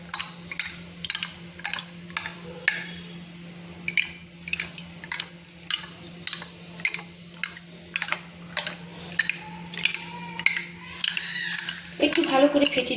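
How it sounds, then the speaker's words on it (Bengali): Two eggs with a little salt beaten briskly in a bowl, a steady run of quick clinking taps from a fork or whisk against the dish, close and fairly loud with no talking. "আমি সামান্য লবণ দিয়ে আমি ডিমটাকে ভালো করে 2টো ডিম ফেটিয়ে নিচ্ছি।"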